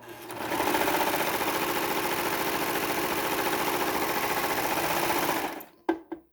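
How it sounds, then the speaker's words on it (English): A serger sewing machine stitching the inseam of pajama shorts runs in one steady, loud, close whir for about five seconds, then stops with a couple of sharp clicks and no talking. "as we stitch the seams, we're going to continue to serge it"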